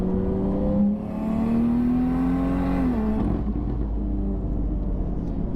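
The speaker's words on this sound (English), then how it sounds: "It's quite loud with the exhaust open." BMW F80 M3 single turbo with its exhaust open accelerates hard, its engine note climbing loudly through a gear, then a shift, and it pulls again with a deep rumble.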